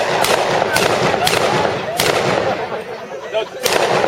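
A mortar fires at a war weekend re-enactment display, with loud sharp reports and bursts that echo outdoors, heard over a crowd murmur.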